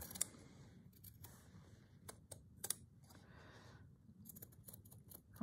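Scissors snip out a paper heart for a slow-stitch craft piece: quiet, close, irregular clicks and short cuts with small pauses between them, faint and without any talk.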